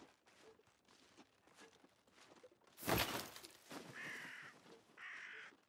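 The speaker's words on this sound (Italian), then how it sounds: "Abbiamo spaventati i corvi." Startled crows in the video game Wartales burst into loud cawing amid a rush of flapping, with further harsh calls following over quiet ambient footsteps.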